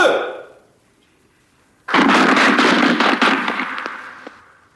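A loud firing-squad volley of rapid gunfire erupts after a brief shout and a pause, many shots crackling together before trailing off into echoing decay.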